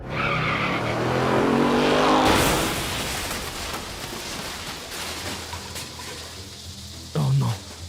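A cartoon car skids with a long tire squeal and engine roar, then the noise breaks into rough, rattling clatter. A short thump follows near the end.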